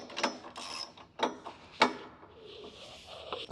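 A wrench ratchets on bolts of a Hoist V4 Elite leg press foot pad, giving several short, close clicking bursts with quiet gaps between them and no talk.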